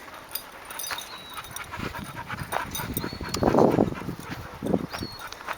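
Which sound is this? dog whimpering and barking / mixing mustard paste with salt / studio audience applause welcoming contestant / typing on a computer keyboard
dog whimpering and barking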